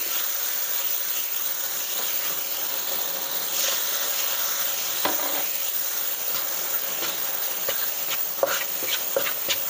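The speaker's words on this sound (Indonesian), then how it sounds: "Goreng sampai karinya agak masak." Pork rib curry with curry powder and a little water sizzles and fries in a pan, stirred steadily, with scraping clicks of the utensil against the pan over the continuous hiss.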